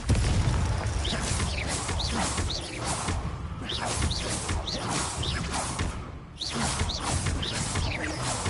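Fiery Confringo blasting spell from a Hogwarts wizarding video game, a run of booming bursts and whooshes that stay loud and dense throughout with a brief dip near the end, no talking.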